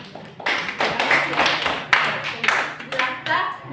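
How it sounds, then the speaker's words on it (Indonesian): Students in a trigonometry class clap for a classmate, a loose scattered burst of handclaps rising and falling in uneven waves over a few seconds. "Oke, tepuk tangan untuk teman."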